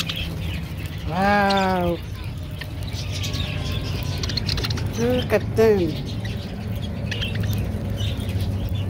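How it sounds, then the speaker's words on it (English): Small parakeets at a petting zoo give short, fast chirping calls in two bursts, fairly close, over a steady background hum while a person speaks briefly. "These are parakeet patch birds."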